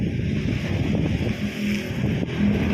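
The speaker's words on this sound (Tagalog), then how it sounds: "malakas pa rin hangin dito" Strong wind blows at the shore during kite season while waves break, forming a loud, steady roar of gusts and surf with constant microphone buffeting.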